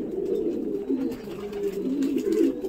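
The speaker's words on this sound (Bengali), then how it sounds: "একটা পায়রা জল খাবে বলে এ করছে" Young pigeons coo steadily at close range during a morning training session, a low rolling murmur of overlapping calls with no talk.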